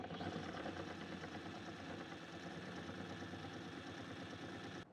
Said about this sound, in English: Now we have Chunky Boy. We're going to put him on low speed.